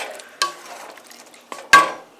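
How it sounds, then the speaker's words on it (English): A spoon stirring a pot of thick, heavy white chicken chili on medium heat, giving two distinct scraping, clattering strokes against the pot over a faint simmer, alone without talk. "So, gotta give it a good stir."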